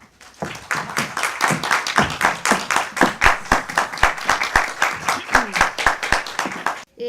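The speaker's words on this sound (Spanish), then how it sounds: "Quisiera que le diéramos un fuerte aplauso de bienvenida." Audience gives welcome applause before a harpsichord concert, loud rhythmic clapping in steady unison beats that stops abruptly near the end.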